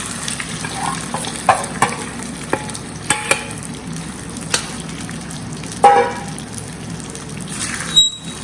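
Corn being stirred in a frying pan over a low flame, a soft background sizzle broken by sharp spoon scrapes and taps against the pan at irregular intervals, close by.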